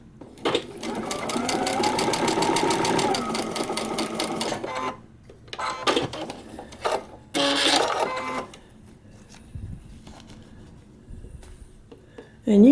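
A sewing machine stitches a paper-pieced quilt block in a fast, steady run of needle strokes for several seconds, then stops and restarts in short bursts, close and fairly loud.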